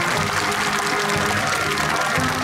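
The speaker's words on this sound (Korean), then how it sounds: "박수" Dense, steady applause from an audience at a Korean Buddhist military chaplains' day ceremony marking the 50th anniversary of the chaplaincy, following an award presentation; a continuous wash of clapping throughout with no speech.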